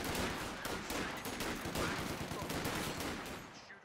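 Dense, rapid machine gun fire from a Company of Heroes 2 match rattles on continuously at steady volume, overlapping bursts filling the whole stretch before tapering off at the end.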